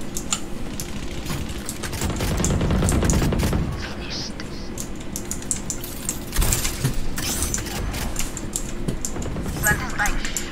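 Bursts of gunfire from a first-person shooter match, dense rapid shots clustering around the middle and again later, mixed with game ambience and a player's talk.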